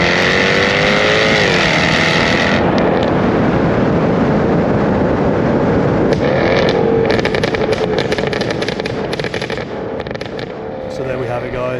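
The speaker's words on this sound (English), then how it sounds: "How to make your exhaust backfire on demand" A loud, revving petrol car engine with no modifications roars throughout, with sharp crackling backfire pops from the exhaust bursting through in the later half.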